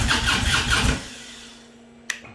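A 2015 Harley-Davidson Ultra Limited motorcycle that won't start after a handlebar swap cranks loudly and rhythmically for about a second without catching. It falls to a low steady hum, then a single sharp click.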